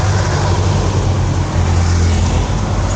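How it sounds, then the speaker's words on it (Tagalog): Steady roar of many cars and other vehicles streaming past on a roadside near Antipolo, a continuous loud rumble with low engine drone and no gaps, no voices. "ngayon nga lang, maraming dumadaan na sasakyan"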